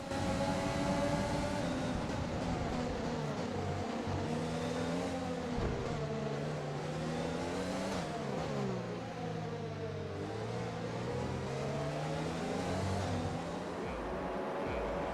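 F1 race cars in the F1 2020 video game launch off the grid at the start of the French Grand Prix at Le Castellet, a dense, continuous roar of engines revving and shifting pitch throughout, loud and alone.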